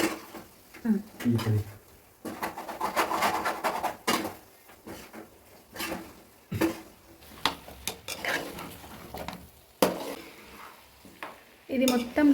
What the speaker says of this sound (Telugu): ఇది మొత్తం డ్రై అయ్యేంత వరకు కలుపుతూ ఉండాలి.